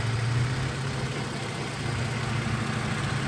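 A 2004 Chrysler Sebring convertible's engine idles with a steady, low rumble, evenly throughout, close by, with no talking.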